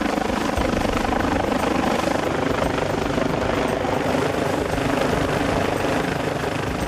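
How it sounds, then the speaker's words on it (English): A helicopter hovers close overhead during a mid-air rescue, its rotor wash a loud, constant thumping roar that fills the whole stretch with no voices. "unsure how to deal with the rotor wash from the chopper"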